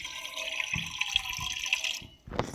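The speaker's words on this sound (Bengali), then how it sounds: "কুকারের মধ্যে দিয়ে দিচ্ছি পরিমাণ মতন জল।" Water pours into a pressure cooker in a steady, hollow splashing stream that cuts off near the end, followed by a brief clatter, close and moderately loud.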